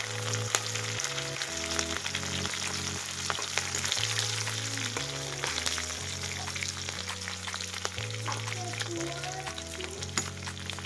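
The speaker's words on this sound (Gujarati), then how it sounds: "હવે આપણે નાખીશું તેલમાં હવે લસણ નાખીશું આદુ લીલા મરચાં" Garlic, ginger and green chillies fry in oil with a steady, broad sizzle that runs the whole time beneath louder background music with a stepping melody.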